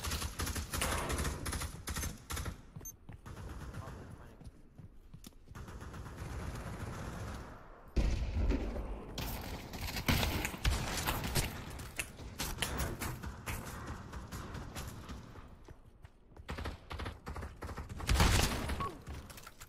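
Pump shotgun gunfire in the Pavlov VR shooter game: repeated sharp blasts and mechanical pump clacks, with gunfire intervals scattered through a busy, fairly quiet combat soundscape.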